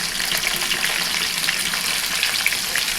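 Green chillies, garlic and tomato fry in an oiled pan for a fish curry, giving a steady, close, dense sizzle with small crackling pops throughout and no voices.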